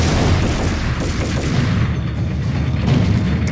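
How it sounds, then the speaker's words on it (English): A grenade blast and gunfire from the Max Payne video game: dense, loud, continuous rumbling explosions and rapid shots with no talk. "Oh god, there's a grenade!"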